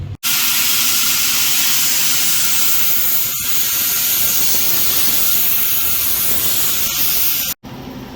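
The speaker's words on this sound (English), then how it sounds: "I'm going to fire up my state-of-the-art CNC laser and get these blasted out" A CNC cutter slices steel sheet parts for a homemade jeep side-by-side with a loud, steady, close hiss that runs for several seconds. The hiss drops out briefly near the start and again near the end.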